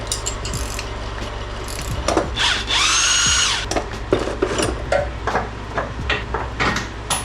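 A tool working a suspension lock nut on a Buick, with rapid ratcheting clicks and metallic clanks plus a short whirring power-tool burst midway, close up and without talk.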